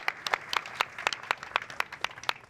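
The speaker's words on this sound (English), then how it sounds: "Let's all give them a huge round of applause." At Tableau Conference 2025, a sparse audience claps in distinct, separate hand claps, crisp and fairly near, a thin round of applause rather than a full roar.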